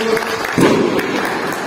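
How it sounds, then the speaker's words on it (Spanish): An audience at a public ceremony in Chilete for a bus terminal improvement project applauds to welcome a company representative, with a short, dense burst of clapping that swells after a brief moment and holds steady. "Los aplausos"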